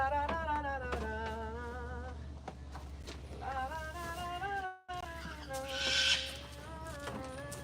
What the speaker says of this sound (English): Now that loud one that you're hearing right now is my bird